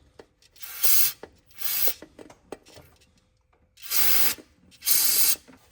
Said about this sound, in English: I'm also going to use some parts cleaner to spray it down.